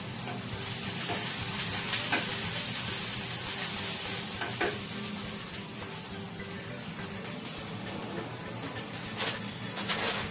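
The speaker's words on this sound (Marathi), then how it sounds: "आता आपण याला परतून घेऊया थोडा वेळ" Peanuts and thecha ingredients sauté in a pan, a steady broadband sizzle with faint stirring scrapes and occasional clicks, close and continuous with no talk.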